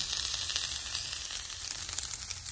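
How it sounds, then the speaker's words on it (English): Brown rice hitting a hot pan and being stirred in: a steady, loud, close sizzle and frying hiss runs throughout, with faint scraping from the stirring underneath and no talking. "now I'm going to add 1 cup of brown rice to this and mix it well"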